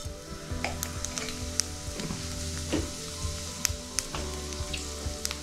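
Cumin seeds sizzling in hot oil in a pan while making aloo paratha, a close, steady crackling fry with a few sharp pops and stirring sounds.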